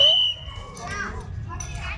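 Children playing in a busy park play area, their high voices and shouts mixing into a steady background bustle, with a brief whistle-like tone at the start.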